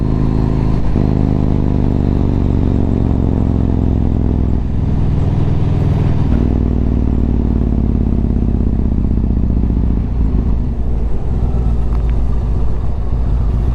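Yamaha MT-01 motorcycle ridden along country roads in the Blagdon Hills, Somerset, a loud, continuous low engine drone with wind rush and slight shifts as the throttle changes, close and unbroken throughout.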